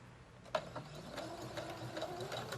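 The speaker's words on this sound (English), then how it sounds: "I'm gonna go ahead and put in my basting stitch" A sewing machine runs a basting stitch for a jacket, a quiet, steady mechanical whir with faint rhythmic ticking of the needle, close by and without talk.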